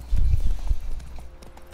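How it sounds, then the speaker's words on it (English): Horse hooves cantering in The Witcher 3: Wild Hunt, a quick run of close, heavy clip-clop beats that fade slightly toward the end, with a faint voice under them. "if you're riding Roach, right? If you hold down the A button, it'll canter and like it'll follow the pathway"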